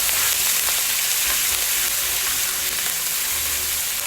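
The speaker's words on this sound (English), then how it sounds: "Got my garlic browning." Garlic and ginger fry in a pan for Chinese vegetable lo mein, giving a dense, even sizzle that holds steady from start to finish with no talking.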